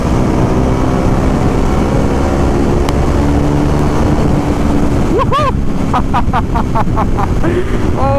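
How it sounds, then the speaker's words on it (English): A KTM motorcycle's exhaust drones steadily while it is ridden, half buried under strong wind rush at the microphone, with a few rising whine-like tones near the end. "Especially the exhaust note."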